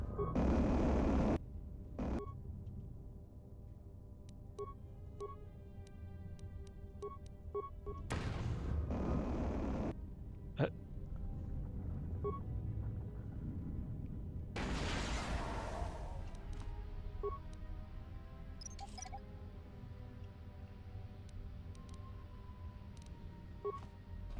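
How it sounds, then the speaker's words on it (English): Blasts from grenades going off in the KOTOR II video game, several deep, loud booms with broad bursts of noise, spread through a steady hum of game sound and music. "Alright, let's just throw grenades at him then."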